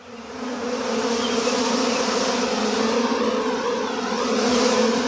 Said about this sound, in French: Barrez-vous de mon sucre, méchante abeille, méchante!